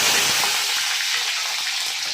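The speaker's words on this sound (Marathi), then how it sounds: "तेल गरम झाल्याच्या नंतर शेंगदाणे टाकून घ्यायचे चांगले।" Peanuts fry in hot oil in a pan, a dense, steady hiss and crackle heard up close with no voices.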